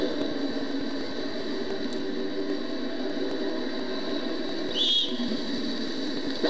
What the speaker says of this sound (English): The starting whistle is sounded and the race gets underway.